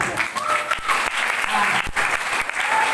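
Brief burst of applause from an audience at a madrasah school event, a close, busy patter of clapping running throughout with a couple of sharper claps standing out.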